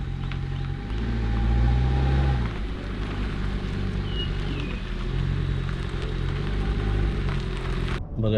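A car drives along steadily with a continuous low engine and road rumble, some wind noise over the body, and a brief faint tone partway through, ending in a sudden drop.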